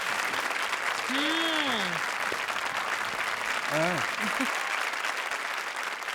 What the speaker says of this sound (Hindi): जोरदार तालियां हमारे शरारती जजेस के लिए।